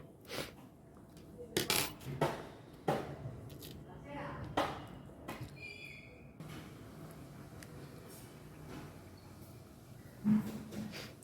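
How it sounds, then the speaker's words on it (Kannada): Tiny 2 mm metal beads clicking and tinkling softly as they are handled during crochet work, a scatter of brief light taps and clinks spread over the span, close and quiet, with faint background noise. "ನಾನು 2 mm ಮೆಟಲ್ ಬೀಡ್ನ ಇಲ್ಲಿ ಇನ್ಸರ್ಟ್ ಮಾಡ್ತಾಯಿದ್ದೀನಿ"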